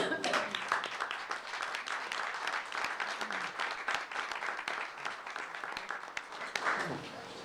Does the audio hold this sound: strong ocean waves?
no